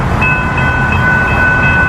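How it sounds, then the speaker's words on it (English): A train passing through a Minneapolis neighborhood, its bell sounding as a sustained ringing tone over the rumble and clatter of rail cars, loud and close. "there's the bell of the train that comes through here"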